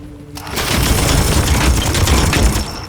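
Rapid, loud gunfire and heavy bursts in the video game Warhammer 40,000: Chaos Gate - Daemonhunters, a dense fusillade starting abruptly after a brief quiet moment and continuing throughout, with no talk over it.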